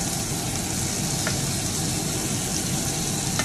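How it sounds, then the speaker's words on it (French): Slices of bread toasting in a pan with a little butter, a steady dense sizzle that stays even and close throughout, with no voices over it. "2 premières petites tranches de pain là qu'on va juste snacker un petit peu là dans la poêle avec un petit peu de beurre"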